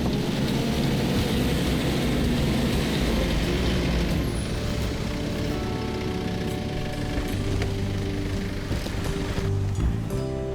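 A 4WD vehicle slowly pulls another out during an off-road recovery, giving a steady, loud engine drone with low rumble that lasts throughout, plus a few brief clanks and creaks.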